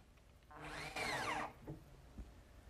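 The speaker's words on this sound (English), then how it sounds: "I'm going to have to drill a counterbore so that I don't take a chance of splitting any of the pieces of" Power drill boring a counterbore into wooden face-frame pieces in a woodworking shop, one short whining burst that spins up and winds down, fairly quiet and close, with a couple of faint knocks after.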